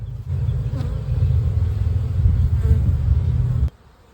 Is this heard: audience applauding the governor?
no